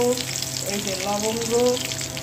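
Whole spices like cinnamon, cloves and cardamom tempering in hot oil, a continuous loud sizzle with crackling over a low steady hum from nearby cooking.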